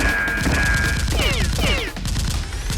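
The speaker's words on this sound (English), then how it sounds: "The robber sees Tony and immediately shoots" Rapid toy blaster fire in a staged Nerf battle, a dense burst of overlapping pops and clatter with whistling, sweeping tones on top, loud and continuous for a few seconds.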